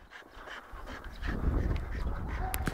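A dog panting during obstacle agility training, steady rapid breaths close by, rising louder and rougher in the second half with a brief faint whine near the end.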